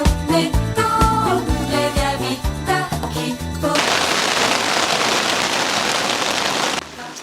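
Rain pours onto a tent at a campsite, a dense, steady patter filling the second half, preceded by music.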